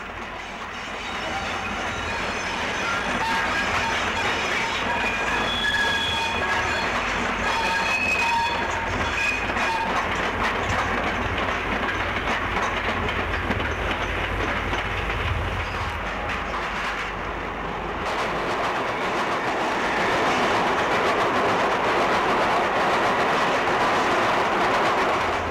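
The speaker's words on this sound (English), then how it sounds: "Here we have a pair of Class 312 units in the Network livery." A pair of British Rail Class 312 electric units in Network livery passing, a loud sustained rumble with clattering wheels and faint squealing, near and steady throughout.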